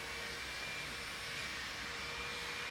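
A hair dryer or small fan blows steadily to dry sprayed-on makeup setting spray. It makes a loud, even whoosh that runs without a break and without talk.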